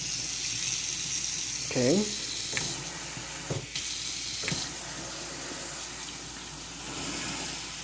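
A kitchen pot filler faucet runs water in a steady, hissing spray, with a few soft clunks and a brief spoken word over it.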